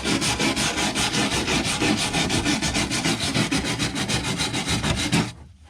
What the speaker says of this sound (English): what I've been using to clean the foam off is a stainless steel wire brush